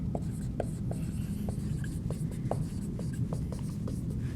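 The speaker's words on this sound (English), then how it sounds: "The next step, draw a number line." A number line drawn on a classroom board: a series of short, scratchy marker or chalk strokes at a loose, uneven rhythm, moderately close, over a constant background hum.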